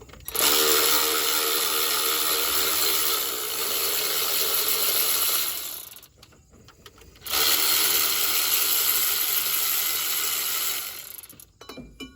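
Rapid ratchet clicking from a wrench turning an 11/16 socket on the pump bracket of a 1979 Ford F-150, loud and close, in two long bursts separated by a short pause.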